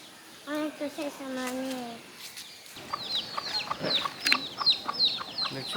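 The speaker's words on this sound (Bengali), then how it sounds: "মুরগি" Domestic chickens cluck and chatter in a busy, overlapping series of short calls, close by, after a brief stretch of talking.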